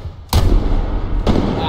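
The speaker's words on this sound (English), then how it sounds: "throwing a grenade in front of you." Grenade explosions in the video game Deadline: two sharp, heavy booms about a second apart, each a loud broadband burst with a lingering rumbling tail, close and alone without talk.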